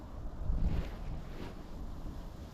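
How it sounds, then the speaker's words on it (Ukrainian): Gusty wind buffets the microphone with low rumbling bursts, swelling twice before settling into a steady rush. "Вітер став ще гірше дути. Взагалі прямо в лице."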